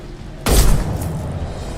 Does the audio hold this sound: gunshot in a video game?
yes